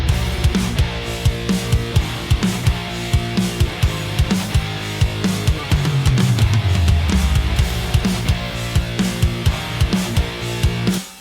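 A full drum groove from the EZdrummer software preset "Letters" plays steadily throughout: punchy kick and snare hits over busy cymbals, with a low tom fill sweeping down midway. No voices.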